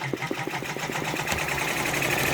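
An OESD embroidery machine stitches freestanding lace with a fast, rhythmic mechanical clatter, each needle stroke a regular tick close to the mic. The sound is steady and moderately loud, with no talking.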